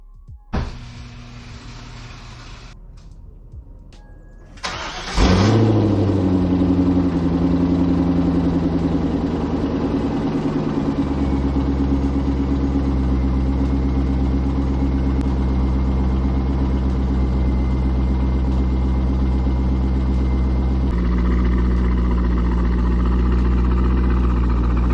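A Chevrolet C5 Corvette engine cranks and fires after a few seconds of quiet, catching with a loud burst before settling into a steady, rumbling idle up close.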